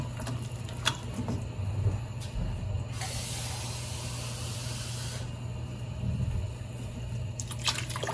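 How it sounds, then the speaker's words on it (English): A steady hiss of water pouring for a couple of seconds into a pot of pigeon pea curry, framed by faint clinks and light mechanical clicks nearby. "then obviously you would add more water in here"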